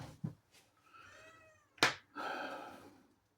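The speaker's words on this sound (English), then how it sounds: "Anybody like a cat?" A pet cat meows several times at close range, with drawn-out, rising and falling calls and a sharp short cry between them, in a quiet indoor room.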